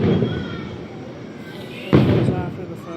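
A fireworks show at Kings Island amusement park, with a sharp, loud burst near the end standing out from continuous crowd chatter and rumbling background noise.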